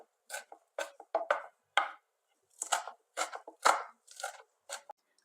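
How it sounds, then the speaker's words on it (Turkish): Knife chopping a handful of washed dill and parsley finely on a board, in irregular bursts of quick close taps with short pauses between them, no voices. "Bir avuç dereotu ve bir avuç maydanozu güzelce yıkadıktan sonra ufak ufak doğruyoruz."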